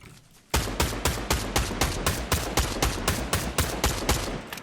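Rapid bursts of automatic gunfire from a new weapon in Fortnite Battle Royale, a steady train of about seventeen sharp, loud shots that begins abruptly after a brief quiet moment.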